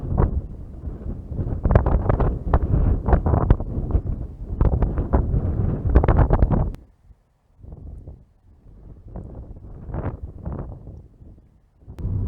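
Wind gusts hard across the microphone on an open hilltop, a loud rumbling buffet for several seconds, then dropping to softer, intermittent blasts.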